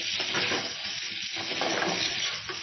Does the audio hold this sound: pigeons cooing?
no